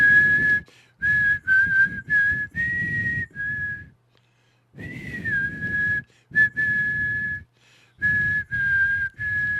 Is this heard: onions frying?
no